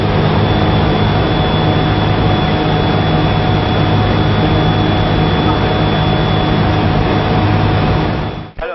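Ultralight light aircraft engine droning steadily in flight, a loud continuous hum with a fixed tone that fills the whole clip before cutting off abruptly near the end.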